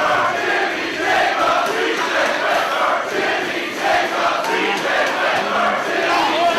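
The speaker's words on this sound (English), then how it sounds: "This crowd encouraging B.J. Whitmer on here to get back to his feet, fire back on Jimmy Jacobs." A wrestling crowd at a 2007 Ring of Honor match roars steadily, cheering on a bloodied wrestler trying to get back to his feet, with a dense, continuous wash of voices and no clear breaks.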